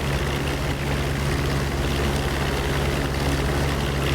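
A P-47 piston fighter's propeller engine drones steadily and loudly in the DCS flight simulator, a constant unbroken roar with no voices over it.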